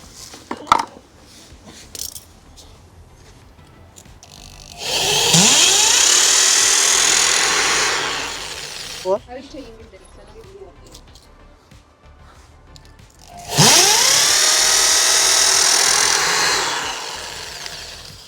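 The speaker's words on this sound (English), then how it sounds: "after that I do the drill" Two long bursts of a high-pitched electric drill whirring as it bores mounting holes for a garden hose reel, each lasting a few seconds, separated by quieter handling noises and clicks.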